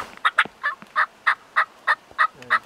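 A wild turkey gobbler gives a rapid run of about ten sharp, bright gobbling bursts in quick rhythm during spring hunting in Indiana, sounding fairly close and clear.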